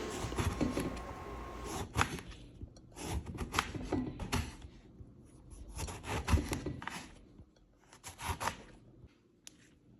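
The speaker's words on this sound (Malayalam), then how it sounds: "ഇതുപോലെ കട്ട് ചെയ്ത് കൊടുക്കാം നല്ല റൗണ്ടായിട്ട് കട്ട് ചെയ്യാം" A knife cuts a brinjal into round slices with a string of quiet, close, rhythmic cutting strokes and board taps, and no talking.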